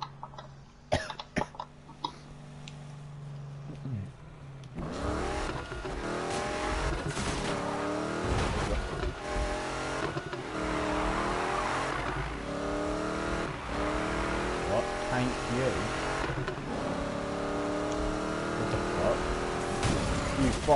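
A Porsche race car in Need for Speed revs and accelerates loudly, engine pitch climbing and dropping through repeated gear changes with scrapes and impacts of crashing, while a person coughs and talks near the start.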